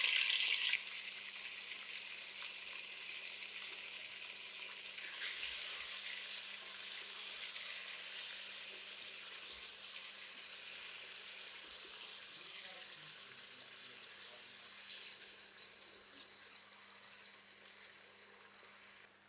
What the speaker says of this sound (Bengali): চিকেনটা একটু ভেজে নিলাম।